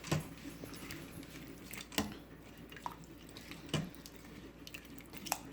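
A spoon stirs a black-pepper seasoning mixture in a bowl, giving a few sharp scraping clicks spaced about every couple of seconds over a quiet, soft background.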